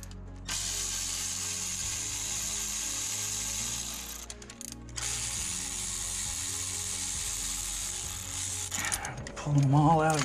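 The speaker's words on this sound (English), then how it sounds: "now I'm gonna go ahead, unbolt these, and pull this bracket off" A hand ratchet clicks steadily while loosening the bolts on an engine's alternator bracket, close and mechanical, with a brief pause midway and some clatter of parts near the end.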